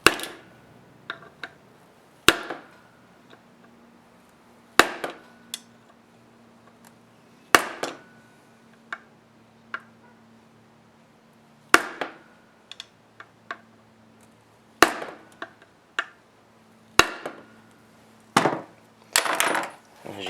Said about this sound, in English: take your least favorite Phillips screwdriver, take it and go around the corners of the case and just give it a light tap